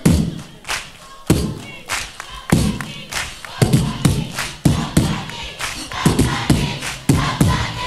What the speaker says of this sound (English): Clap your hands. Let me hear it.